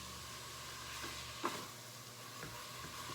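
Chopped spinach is stirred into a cauliflower and mushroom risotto in a pan, giving a soft steady sizzle with a few faint scraping strokes of a utensil, with no talk.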